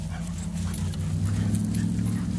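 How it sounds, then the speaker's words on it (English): A big, friendly dog whimpers and whines in a steady, close run of low nasal sounds over outdoor background noise, with no clear barks standing out and no talk. "This B is a really cute dog, George."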